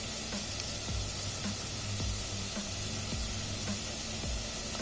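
Meatballs sizzle steadily as they fry in a pot with golden onion, a continuous close crackle with soft pops and occasional stirring knocks, no talk over it.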